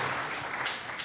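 Audience at a media and democracy conference applauding community radio figure Renee Carpenter, a brief burst of dense clapping throughout.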